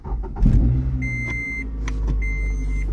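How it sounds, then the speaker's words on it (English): A Scion tC's engine cranks and starts close by: a brief starter whir and the engine catching, then a steady idle. Two electronic dashboard chimes sound over it. "So disconnect it and then start the car."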